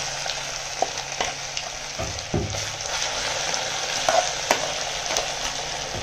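Ginger paste with chili powder frying in a pan sizzles steadily, with occasional soft stirring clatters and scrapes, close and moderately loud with no talking.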